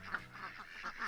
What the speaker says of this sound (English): Come on out, geese.